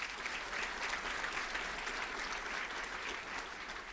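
Audience clapping steadily at a dedication ceremony honoring Senator Mikulski at a space archive, a dense sustained round of applause from a crowd, even in loudness and slightly fading at the end.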